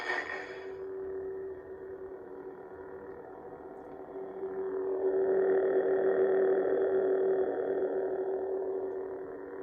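A General Krell lightsaber sound font: a brief crackling ignition burst gives way to a steady electric hum that swells louder partway through and sustains, buzzing and tonal.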